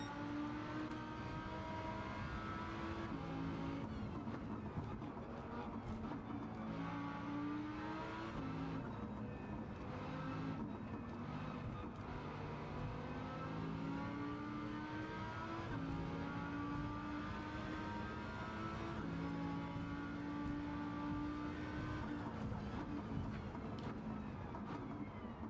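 A car engine in Gran Turismo 7 drones steadily throughout, with the pitch rising and falling as it revs and shifts, a continuous racing-game engine tone with no gaps and no voices.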